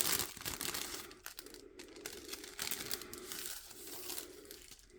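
Small plastic wrapping from a cross-stitch kit pouch crinkles and rustles softly at close range, in irregular bursts of crackling as it is handled, with no voices.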